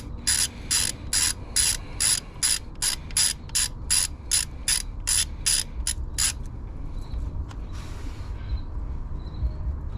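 A ratchet clicks in rapid bursts while loosening coil pack bolts on a Jeep Wrangler engine, about a dozen quick sharp strokes close up, followed by quieter handling noises.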